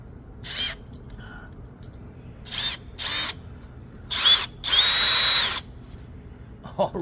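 A small power drill with a very small bit whirs into a KTM motorcycle oil filter cover bolt in several short bursts, the last one longer, separated by quiet gaps.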